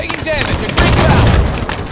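Grenade blast in Halo 5 multiplayer, a heavy low boom rolling out over the middle of the clip amid dense gunfire and game effects, with a voice speaking over the action.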